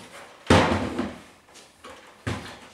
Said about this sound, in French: on prend la porte, on la tire